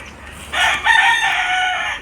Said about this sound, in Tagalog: Tilaok gihapon ning manok